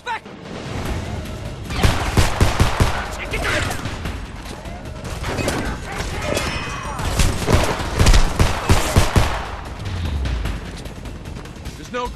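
Rapid bursts of gunfire in the video game Homefront, dense volleys of sharp shots and mechanical clatter that surge and ease over several seconds, with voices talking in the background.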